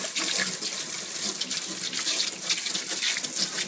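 Tap water runs steadily into a sink while potatoes are rinsed and scrubbed, a close, continuous hiss and splash with small sloshing variations.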